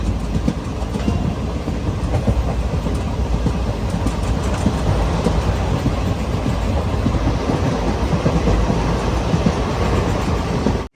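An express train rolls along from inside a sleeper class carriage, a loud continuous rumble and rattle of wheels on track with faint rhythmic clacks throughout, no voices.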